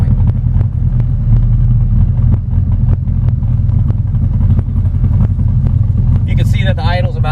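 A&C Performance Gen 5 car engine idling steadily at about 1,000 rpm, a loud continuous low rumble with faint ticking throughout and a brief high-pitched whine near the end.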